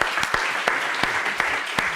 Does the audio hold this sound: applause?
yes